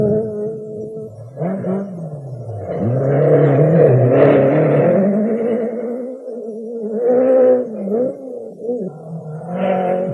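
A 1981 Skoda rally car at speed on dusty, rough, potholed roads of the Acropolis Rally, its engine roaring loud and continuous as the revs rise and fall with gear changes.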